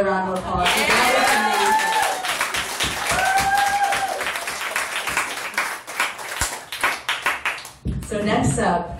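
An abortion rights rally crowd in Mississippi bursts into loud applause and cheering, a dense wash of clapping that holds steady for several seconds, thins into scattered claps, then swells briefly again with voices mixed in.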